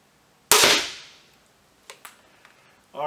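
CP400 air gun firing one loud sharp shot through a chronograph, with a brief decaying tail and a couple of faint clicks afterward.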